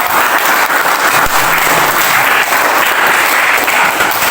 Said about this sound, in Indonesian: Kita tepuk tangan dulu kepada